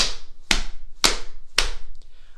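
Four evenly spaced hand pats on the lap, dull and thumping, each about half a second apart, close up with a faint extra tap at the end, tapping out a rhythm in a music lesson.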